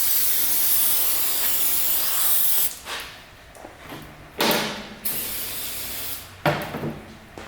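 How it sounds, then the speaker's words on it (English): Cleaner sprayed onto a Toyota Prius brake rotor: a long loud continuous hiss of spray, then several shorter sharp bursts separated by quiet gaps and light handling clatter, close and without talking. "And then I'm going to clean the outside of the rotor."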